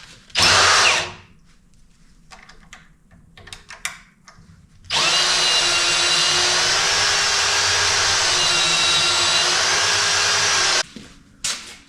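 A handheld drill spins a hone inside a bushing from a compact road grader's front axle, with a short burst followed by a long, steady, loud whine that cuts off abruptly.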